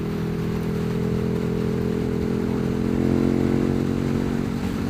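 A KTM Super Duke 1290 R motorcycle on the move, its engine droning loud and steady with a dense, harmonic-rich growl that swells slightly partway through, heard close with no talking.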